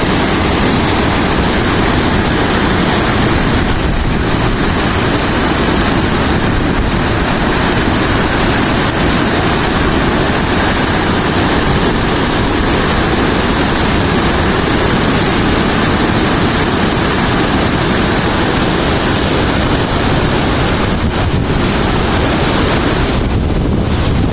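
A strong river in flood during Typhoon Kristine in Paluan, a loud, continuous roar of rushing water mixed with heavy wind buffeting the microphone, unbroken for over twenty seconds.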